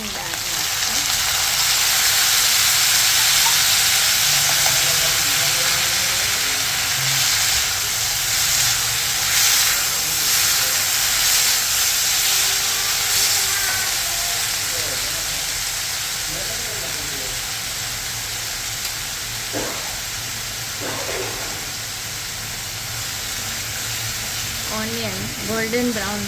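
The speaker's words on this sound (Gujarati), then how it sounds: "ઓનિયન ગોલ્ડન બ્રાઉન થાય ત્યાં સુધી આપણે કરીશું" Onions frying in a pan for Bihari bhujiya give a steady, close sizzling hiss that runs throughout, with faint clinks partway through.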